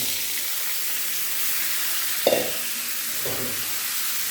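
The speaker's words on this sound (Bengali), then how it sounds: "এই কড়াইতেই আমি উস্তা আলু ভাজি করে নেব।" Bitter gourd and potato frying in a wok, a steady soft sizzle with two clanks of a spatula stirring near the end.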